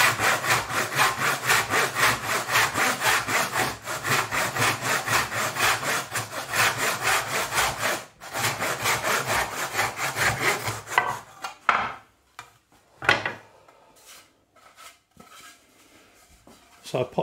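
Steady back-and-forth strokes of a budget dovetail saw cutting through wood, loud and close for about eleven seconds, then stopping, followed by a few scattered handling knocks and quiet shuffling.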